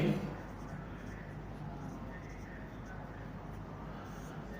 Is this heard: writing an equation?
yes